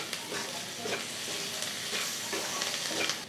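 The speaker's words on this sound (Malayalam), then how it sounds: "നല്ലതായിട്ടൊന്ന് ഇളക്കിയെടുക്കുക." Eggplant (brinjal) sizzles and crackles steadily while frying in a pan, with a spoon scraping and stirring through it at close range, the frying noise continuous and fairly quiet throughout.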